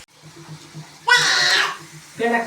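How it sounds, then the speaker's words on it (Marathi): Shankarpali dough pieces frying in hot oil give off bursts of loud, hissing sizzle over a low, steady kitchen hum, with a shorter second burst near the end. "शंकरपाळ्या आता भाजायच्या चालू आहेत बघा"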